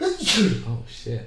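A short, sharp sneeze bursts out near a speaker's voice, with talking just before and after.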